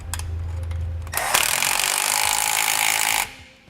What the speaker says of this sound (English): So we can go ahead and reinstall that bolt that we removed.